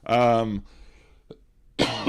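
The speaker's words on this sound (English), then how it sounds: "you can see, a little bit of a cough" A short voice, then a brief quiet cough-like burst near the middle, with speech resuming at the end.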